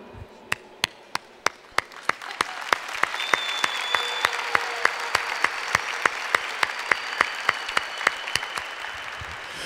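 Applause from a church congregation during a sermon: sharp, evenly spaced claps beat in a steady rhythm while a broader wash of clapping swells in beneath them and carries on.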